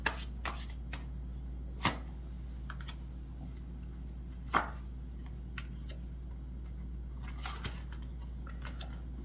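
Tarot cards are shuffled and handled close by in a quiet room, giving soft, irregular flicks and taps with a few sharper snaps, over a steady low hum.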